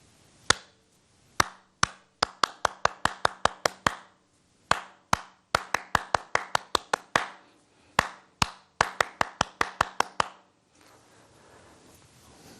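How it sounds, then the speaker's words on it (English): Bare hands clap out a drum rhythm, sharp close claps in quick groups with short pauses between phrases, alone and clear with no talking. "I'm just going to clap it before I count it"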